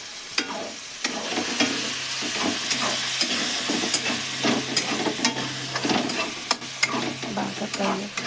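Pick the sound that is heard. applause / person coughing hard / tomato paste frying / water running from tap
tomato paste frying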